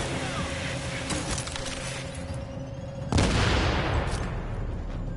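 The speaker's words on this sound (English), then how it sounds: "He's throwing a grenade." A grenade detonates in the online shooter The Division, a sudden broadband blast midway that lingers as a rumbling, debris-filled tail, following scattered gunfire and game noise.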